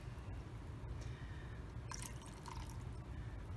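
Citrus-scented soap liquid is poured into a container during soapmaking, giving soft trickling and dripping sounds that are fairly faint against a low background hum.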